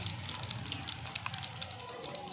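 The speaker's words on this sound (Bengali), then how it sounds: "পাঁচফোড়ন দিয়ে দিচ্ছি" Panch phoron five-spice seeds hitting heated oil in a pan for a cauliflower stem, bean and potato dish, producing a loud, dense, continuous sizzle with fine crackling, up close.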